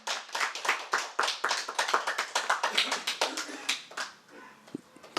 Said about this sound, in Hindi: एक बार आप सब लोगों के लिए भी जोरदार तालियां जो इतनी दूर दूर से आए हैं।